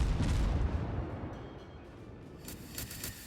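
Guns of the USS Atlanta, a premium tier VII American cruiser in World of Warships, fire a heavy booming blast that rumbles and slowly fades, followed by a few sharper cracks near the end.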